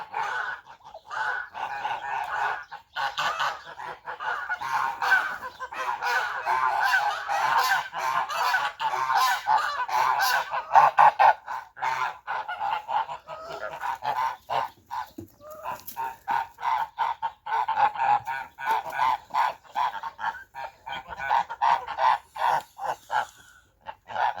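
Farm geese in a bitter winter frost honk in rapid, overlapping bursts, a noisy flock calling repeatedly at close range with brief pauses between volleys.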